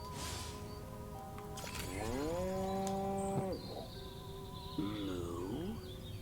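A cow in the video game Destroy All Humans lets out a long, low moo, followed by a shorter second moo over a quiet game background.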